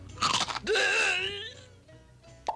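Nacho cheese flavored Doritos tortilla chips crunched up close in a couple of quick loud bites, followed by a sustained grunting or groaning tone and a brief sharp crack near the end.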